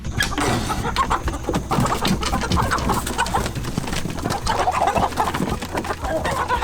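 Several large farm chickens cluck steadily as a busy flock, with overlapping calls close by and continuous barnyard noise throughout.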